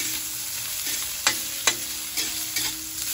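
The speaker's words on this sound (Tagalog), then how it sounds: "Hintayin na natin mag-brown yung ating luya." Chopped ginger frying in a pan for a pork rib and chicken dish, a steady soft sizzle with a few sharp stirring scrapes of a utensil against the pan, close up and without talking.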